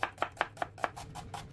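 Onion chopped with a knife on a cutting board, a steady run of eight crisp, evenly spaced knocks, close and clear, slightly softer toward the end, with no voices.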